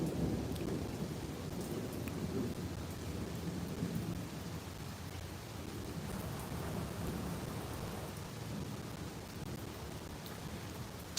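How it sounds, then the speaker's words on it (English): Steady rain pours in a dense, even hiss while low thunder rumbles faintly in the distance, a continuous quiet storm with no voices. "Can you hear the thunder again?"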